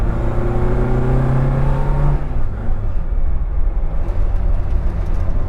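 Austin Mini Cooper MKI engine revving and accelerating up through a rising whine, then dropping back to a rougher low rumble as the throttle eases, loud and close with no talk.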